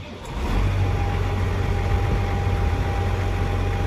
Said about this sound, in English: go ahead and fire up the tractor